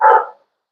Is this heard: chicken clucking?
no